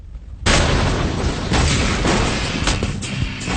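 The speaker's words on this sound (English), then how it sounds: "this copper plate is about 2 pounds of plastic explosive. When it's fired off, this will basically become a projectile slug" A shaped charge of about 2 pounds of plastic explosive behind a copper plate detonates, firing a slug into a steel plate: one sudden loud blast followed by a sustained roaring, crackling wash that fades slowly over several seconds.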